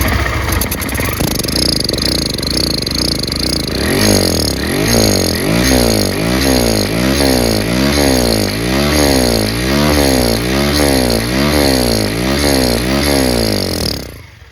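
A petrol EFI engine runs steadily and loudly up close during a fuel injector demonstration, its rhythmic pulsing drone holding for about fourteen seconds before cutting off abruptly.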